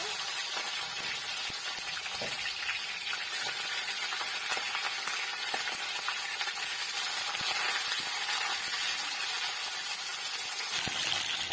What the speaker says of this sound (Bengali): বন্ধুরা তেলটা গরম হয়ে গেছে, মাংসগুলো ভেজে নেব।